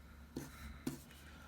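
Chalk or marker writing on a classroom board during an algebra factoring lesson, with two short scratchy strokes over a quiet room.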